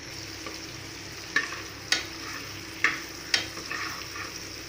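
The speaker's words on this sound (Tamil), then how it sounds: "இப்போ குக்கரில் எண்ணெய் ஊற்றி வச்சுருக்கேன். இப்போ இஞ்சி பூண்டு பேஸ்ட் போட்டுக்கிறேன்." Ginger garlic paste and mint frying in hot oil in a pressure cooker, a soft steady sizzle with a few sharp scraping stirs of a spoon against the metal, close and alone.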